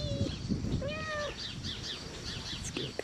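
A cat meows faintly in a garden with chickens nearby, a couple of short calls over background noise and bird chirps.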